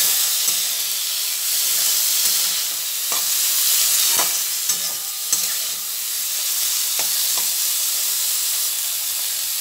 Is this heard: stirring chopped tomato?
yes